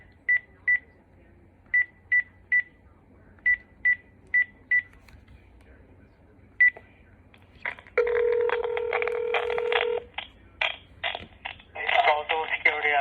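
Telephone keypad tones beep in quick irregular groups as a number is dialed, followed by a loud ringing call signal, with a voice speaking briefly near the end.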